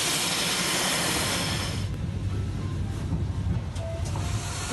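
Steam locomotive hauling a retro excursion train in the Urals, a broad steady hiss of steam and rolling rumble that fades somewhat midway, heard alone without talk.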